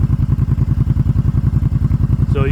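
Stock-muffler 2022 Kawasaki Brute Force 750 ATV engine idling in neutral, a steady deep throbbing pulse with even, rapid firing beats, close and loud throughout, with a brief higher whine near the end.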